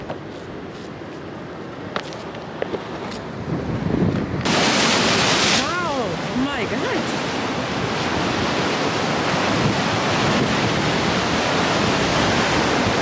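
Surf rolls in at a windy surfing spot on Okinawa in bad weather, a loud, continuous wash of breaking waves mixed with heavy wind buffeting the microphone.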